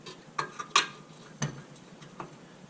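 Breaker bar tightening a bolt on a Jeep Cherokee shock: a few faint, sharp ratcheting clicks at uneven intervals, heard up close in a quiet space.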